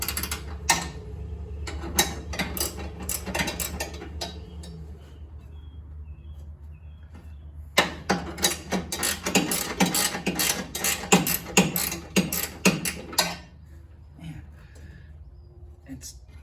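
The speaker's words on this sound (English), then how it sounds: "It's too tough for my fingers, but it's too easy for the ratchet" A hand ratchet turns a tight bolt while an inverter is fitted into a 1984 VW MK1 Rabbit, sounding as bursts of quick, close metallic clicks, first briefly and then in a longer run, with quiet pauses between.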